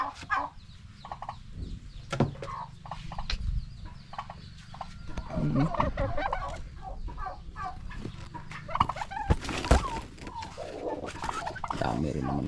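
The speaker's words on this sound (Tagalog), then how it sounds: "Kakainis itong mga pabong to. Nangangagaw din ng pugad." Turkeys gobble and cluck repeatedly in a noisy flock near nesting poultry, loud and close, with other fowl calling throughout.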